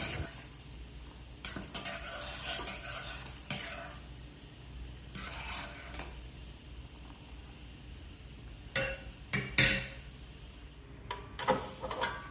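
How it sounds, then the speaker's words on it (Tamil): Cooked basmati rice being mashed with a ladle in a pot for sweet pongal after jaggery has melted, heard as scattered metallic scrapes and clinks against the pot, with a cluster of sharper knocks near the end, no talking. "சாதத்தை கொஞ்சம் கரண்டியால் மசிச்சு விட்டுக்கணும்."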